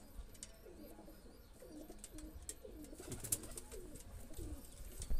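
Rampuri and Teddy pigeons cooing softly nearby, repeated low throaty calls in a steady loose rhythm, with light rustling and faint background noise.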